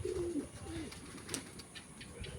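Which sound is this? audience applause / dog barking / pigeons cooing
pigeons cooing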